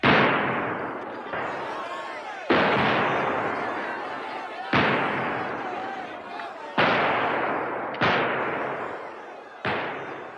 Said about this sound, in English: the soldiers feel threatened. They open fire.